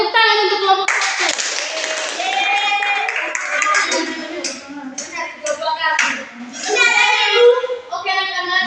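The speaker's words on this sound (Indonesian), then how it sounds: "tepuk tangan untuk kelompok 1." Schoolchildren in an elementary classroom clapping for a group, with rhythmic hand claps mixed under loud children's voices and cheering that dominate throughout.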